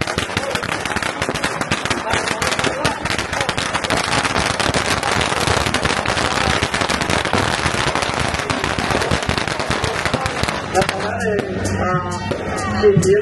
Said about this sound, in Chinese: 感谢鞭炮，感谢鞭炮。